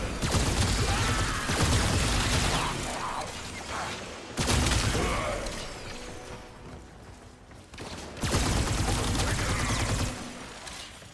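Sustained bursts of rapid gunfire from a Warframe shootout against an enemy, loud and dense, in three long volleys separated by brief lulls.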